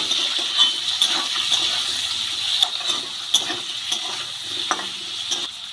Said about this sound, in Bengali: আলু পেঁয়াজ ভালো করে ভেজে নেব